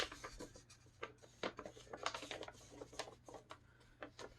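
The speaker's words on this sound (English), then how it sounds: "we're going to take the paper and fold it in half" A sheet of paper is handled and creased in half, giving a quiet series of dry crinkles, rustles and sliding taps close by, irregular and soft, with no talking.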